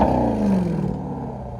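2020 Jeep Grand Cherokee SRT 6.4L HEMI V8 with a Borla Atak cat-back exhaust, a brief loud roar that slides downward in pitch and settles into a throbbing rumble.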